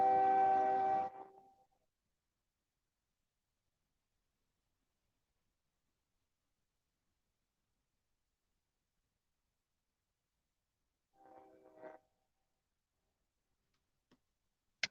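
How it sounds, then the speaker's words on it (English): A train outside sounds a loud tonal horn blast lasting just over a second, followed by a long silence, then a second, fainter and shorter horn call, and a faint tick near the end. "Just the train making noise."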